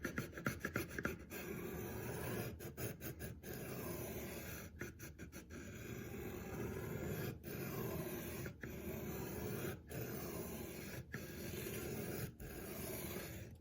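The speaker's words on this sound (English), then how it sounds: "this is the Work Sharp guided sharpening system" A Spyderco Sage 5 lightweight knife is sharpened on a Work Sharp guided sharpening system, with steady close rasping strokes broken by short pauses and clicks.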